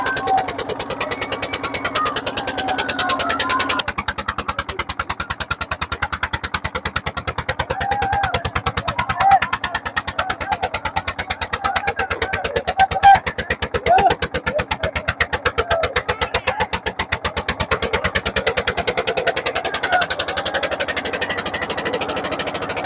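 Tractor engines drone steadily at a village tractor race in Karwas, Eicher tractors competing, with a continuous loud rumble and mechanical clatter throughout, mixed with crowd noise and an announcer talking over it.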